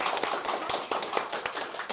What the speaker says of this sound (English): So, a round of applause, please, for our special guest.